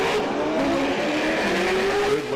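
Race cars pull away from the start line, engines wailing continuously and climbing in pitch, loud and close, with tire noise mixed in and no talking.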